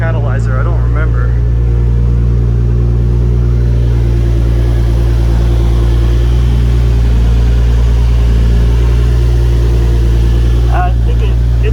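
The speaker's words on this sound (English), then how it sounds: "That's just a nice muffler." A cold-started Okubo Factory wide-body sedan converted to an R34 GTR look idles through an aftermarket muffler, with a new blow-off valve and stock catalytic converter. It gives a steady, loud, deep rumble up close throughout, with faint talk underneath.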